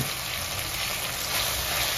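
Butter goes into a pan of frying cauliflower and peas with ginger-garlic paste, giving a loud, dense, continuous sizzle and hiss up close with no break.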